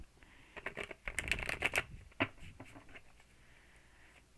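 A deck of tarot cards being shuffled by hand, a run of soft riffling and papery slaps close by, densest in the middle and tapering off into quieter taps.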